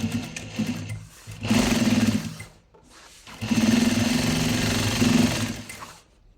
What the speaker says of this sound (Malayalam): അതുകൊണ്ട് ഞാൻ ജസ്റ്റ് ഒന്ന് മടക്കി തയ്ക്കുകയാണ് കേട്ടോ